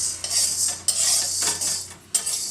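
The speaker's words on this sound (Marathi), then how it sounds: "आता हे आपले साबुदाणा हे भाजून घेऊया" Dry sago pearls roasting in a pan, stirred steadily with a metal spoon that scrapes and clinks against the pan in repeated strokes, with a faint rustle of the pearls and no voices.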